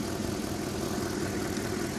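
Engine of a Lamborghini Countach replica running steadily after a ground fault to the fuse box was repaired, a continuous low rumbling idle heard close and alone for about two seconds.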